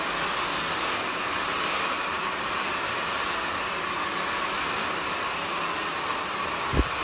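A hair dryer fitted with a nozzle blows steadily while drying short bleached hair, giving a constant loud, close whoosh for several seconds with only a tiny bump near the end.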